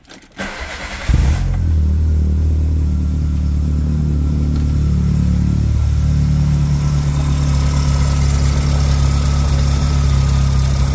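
A two-door car with an immobilizer issue cranks briefly, then its engine catches and settles into a loud, steady low idle that carries on for about ten seconds, close by and with no talking.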